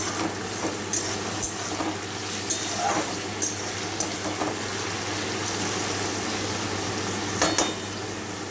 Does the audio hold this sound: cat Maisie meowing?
no